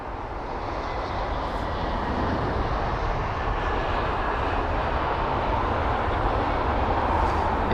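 An Uzbek Airlines airliner passes at London Heathrow, its engine roar a steady, broad rumble that stays loud throughout with no talk over it.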